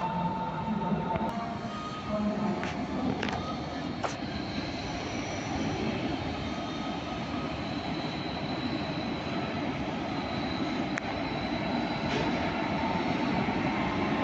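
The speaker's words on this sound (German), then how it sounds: "Hey, ICE 1 und ICE 2 sind das." German ICE 1 and ICE 2 high-speed trains passing near Lutherstadt, a steady, loud rolling rumble of rail traffic that holds for the whole stretch with no pause.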